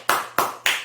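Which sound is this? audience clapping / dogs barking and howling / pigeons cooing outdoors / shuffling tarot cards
audience clapping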